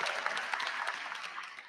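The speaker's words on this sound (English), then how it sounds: "Give her a round of applause." Graduation crowd at a Lansing school ceremony applauds a graduate, a brief, dense burst of many hands clapping at moderate level.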